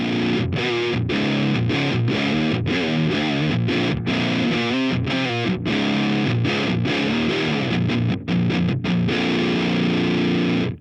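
Electric guitar played through a BOSS HM-3 Hyper Metal distortion pedal: loud, saturated riffs with chugging palm-muted chords and sustained notes, broken by short rhythmic stops.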